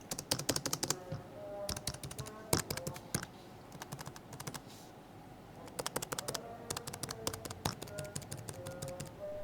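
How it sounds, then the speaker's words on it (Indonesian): Typing on the keyboard of a Lenovo 300e Chromebook 2nd Gen laptop: bursts of soft, quick key clicks in uneven runs, with short pauses between phrases, close and clear, no talking. "kualitas keyboardnya sendiri juga empuk dan nyaman dengan suara keyboard yang wajar sekali untuk"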